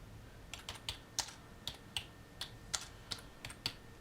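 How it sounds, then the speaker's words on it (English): Someone types on a full-size USB keyboard connected to a Sony Xperia Z phone: about a dozen crisp, quiet key clicks at an irregular pace, close to the microphone, in an otherwise quiet room. "got the keyboard here, and I can now write a message"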